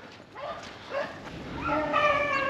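Beagles bark and bay while hunting rabbits in late winter, several dogs yelping in short overlapping bursts that build into a longer, steadier chorus, heard from a moderate distance outdoors.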